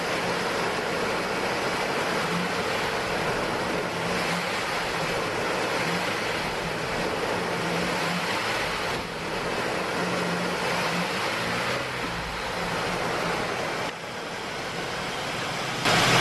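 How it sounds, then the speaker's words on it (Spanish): A car engine revved as the driver accelerates during a MAF sensor test, a broad, loud roar holding steady for many seconds, dipping briefly and rising again at the close. "aquí voy a acelerar el auto y vean cómo aumenta"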